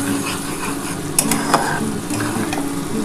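Hilsa fish pieces coated in salt and turmeric slide one by one into hot mustard oil, setting off a steady close sizzle with a couple of sharp crackling spits partway through.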